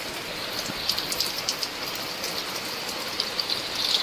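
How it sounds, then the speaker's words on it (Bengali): Autumn rain falls steadily outdoors at a village home, a soft continuous patter with scattered sharper drips tapping nearby surfaces. "এদিকে বৃষ্টি পড়ছে"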